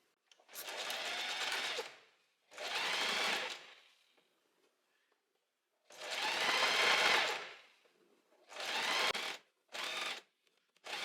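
A domestic sewing machine stitches overlocked fabric onto the back facing of a wrap dress in several separate bursts, each running a second or two, with short pauses between them and no talking.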